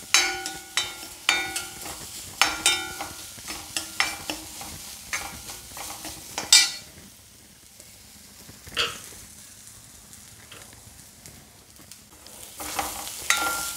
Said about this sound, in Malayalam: വേണത്തിൽ നമുക്കിത് ഒന്ന് ചുമക്കെ വറുക്കാം കേട്ടോ.